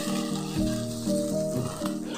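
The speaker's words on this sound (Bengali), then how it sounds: "এখন আমি এই ভিন্ডিগুলোকে ঢাকা দিয়ে লো টু মিডিয়াম ফ্লেমে একটু গোল্ডেন হওয়া পর্যন্ত ভেজে নেব" Okra frying in oil in a covered pan over low to medium flame, giving a steady, close sizzle with a faint hum underneath.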